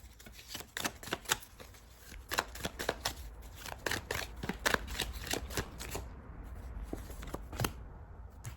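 A deck of cards is shuffled repeatedly at close range, crisp riffling bursts in quick sequence with short pauses, largely free of talk.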